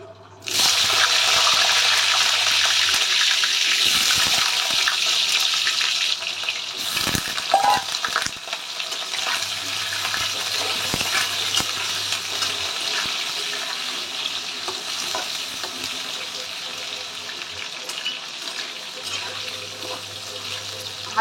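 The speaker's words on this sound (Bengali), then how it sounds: "আলুগুলো একটু লালচে লালচে করে ভেজে নিচ্ছি" Potatoes frying in oil until reddish, a dense, loud sizzle starting abruptly and continuing steadily, with stirring clatter and a couple of sharp metallic knocks partway through, then a slightly softer crackle with a faint low hum.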